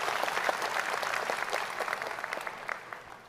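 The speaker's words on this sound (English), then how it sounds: "give yourself a round of applause" Applause from a graduation ceremony audience for business administration bachelor's graduates in Canada, a steady wash of many hands clapping that gradually thins and fades toward the end.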